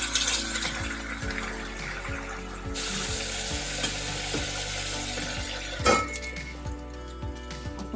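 Masala for spicy ridge gourd sizzles loudly in a pan while a spoon stirs with regular scraping clinks, and a splash of lukewarm water briefly hisses near the end.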